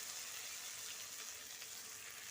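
A spice masala paste frying in a pan, giving off a faint, steady close sizzle like soft hissing static with no clear breaks, and nobody talking.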